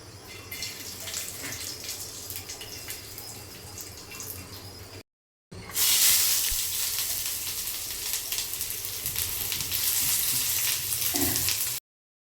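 Onion and grated coconut roast in oil for a prawn curry, a dense hissing sizzle that runs steadily, briefly cuts out, then returns louder and close.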